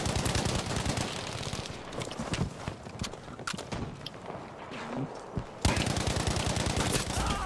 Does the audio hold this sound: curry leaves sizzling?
no